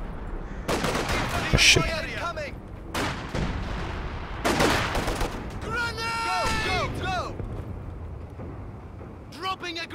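Bursts of machine gun fire in the World War II video game Stalingrad, rattling in three dense volleys over the first half, with a voice exclaiming between them and other speech following.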